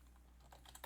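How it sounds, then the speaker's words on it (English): Quiet clicks of typing on a computer keyboard, a few soft taps growing busier toward the end of the brief moment, over a low steady hum. "he's typing again."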